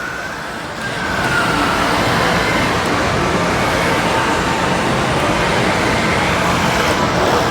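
A hobby-grade RC Jeep Wrangler, built for normal surfaces and off-road, drives past with a loud, continuous whirring rush and a high motor whine that begins about a second in and holds steady, with no talking.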